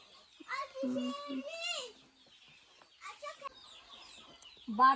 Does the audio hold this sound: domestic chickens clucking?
yes